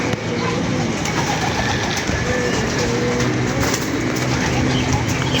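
Pigeons kept through winter coo amid a constant loud rumbling wash of background noise, the low calls blending into the steady din without pause.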